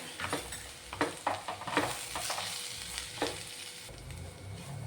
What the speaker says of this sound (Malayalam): ഗരം മസാല ഒരു കാൽ ടീസ്പൂൺ മഞ്ഞൾപ്പൊടി ഇത്രയും ചേർത്ത് ഇനി നന്നായിട്ടൊന്ന് വഴറ്റിയെടുക്കാം